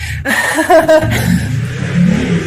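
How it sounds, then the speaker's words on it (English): A loud motor revs and roars close by, rising and falling for a couple of seconds with a brief chuckle mixed in. "My neighbor's got a motorcycle that's loud."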